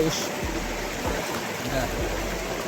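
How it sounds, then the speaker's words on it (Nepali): A river in a forest, running high, rushes with a constant broad roar as voices talk over the flowing water. "खोला चाहिँ ठुलो भइसकेको रहेछ।"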